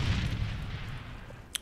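Bomb blast in a TDM video game match, a deep rumbling boom that fades over a second or so, followed by a brief sharp high crack near the end.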